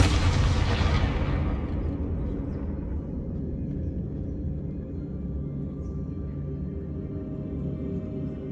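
A Confringo fire spell blasts in Hogwarts Legacy, a loud broadband burst at the start that decays into a long, heavy low rumble carrying on for several seconds without speech.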